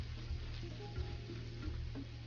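Pasta for seviyan kheer lightly frying in a pan, a soft continuous sizzle with gentle stirring scrapes, close and fairly quiet, with no talk over it.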